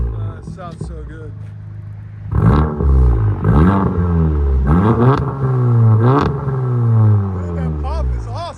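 A 400HP VW GTI revs hard through its aftermarket exhaust in a series of loud, close bursts, each climb ending in sharp pops and crackles on the overrun, with a steady idle burble between blips.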